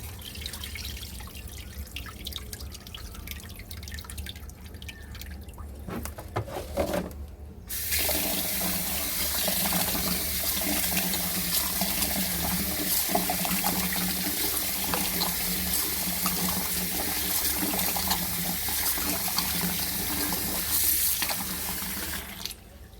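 Tap water running steadily into a bowl while ragi grain is rinsed at home to remove sand, a few sloshes and drips first, then a continuous close splashing stream that stops near the end.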